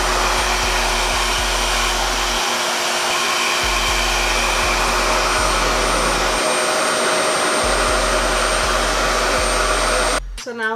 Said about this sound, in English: you want to crank that suction up a little bit more so that you can get a really straight look.